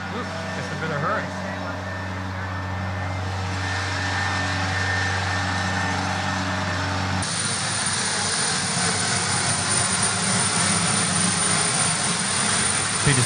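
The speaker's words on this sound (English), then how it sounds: "White Knight 2 is powered by 4 Pratt & Whitney engines." Four Pratt & Whitney jet engines on the White Knight 2 aircraft roar steadily and loudly throughout, with a deeper drone at first that shifts to a brighter, hissing rush partway through, while people talk over it.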